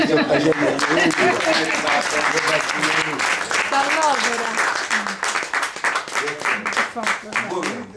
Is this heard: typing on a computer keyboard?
no